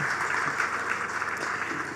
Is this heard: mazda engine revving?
no